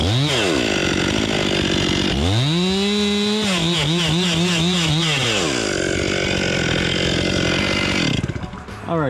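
A chainsaw cutting into a tree trunk runs loud and close, its engine dropping and rising in pitch under load with wavering revs, then cutting off at the end.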